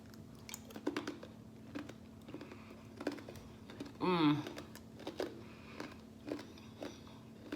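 Someone bites into and chews crunchy homemade maple pecan brittle up close, with a cluster of sharp, brittle crunches in the middle and softer chewing clicks around it, and faint background noise.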